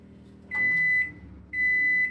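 A microwave oven powered by a portable generator during a power outage gives two long, steady electronic beeps, separated by a short pause, over a low background hum.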